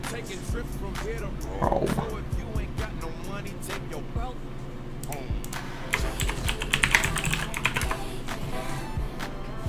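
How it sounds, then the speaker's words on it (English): Computer mouse clicking in quick, irregular taps mixed with keyboard clatter, heard close over a steady background hum while a person talks. "Like, I'm clicking my mouse. Can you hear it?"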